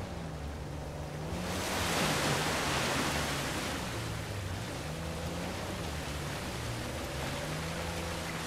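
A waterfall heard from behind in Uncharted 4, a steady, full rushing roar of falling water that swells early and holds constant, with a low tonal hum underneath.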